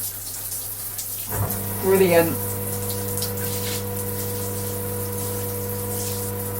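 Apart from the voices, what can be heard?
rainfall shower head spraying water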